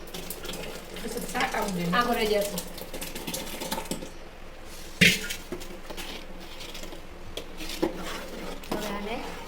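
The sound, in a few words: stirring a tomato puree mixture for sabudana wafers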